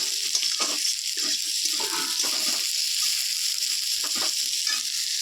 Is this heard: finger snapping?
no